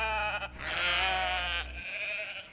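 Loud sheep bleats fill the clip, a long harmonic bleat followed by a second, shorter call, close and clear with no talking.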